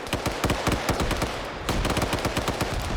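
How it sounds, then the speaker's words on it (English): Massive barrage of video-game gunfire, dense rapid automatic bursts with many overlapping shots, loud and continuous with a brief lull in the middle before the firing resumes. "And now we have a massive barrage of gunfire."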